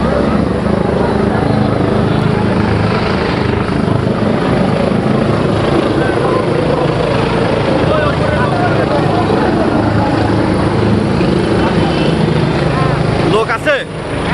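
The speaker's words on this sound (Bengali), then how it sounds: "বাংলাদেশ বিমান বাহিনীর হেলিকপ্টার একটি এই মুহূর্তে আসছে" A Bangladesh Air Force helicopter fights a fire over the burning Jabir Hotel at Lal Dighir Par in Jashore, its rotor a loud, continuous roar overhead while people talk beneath it.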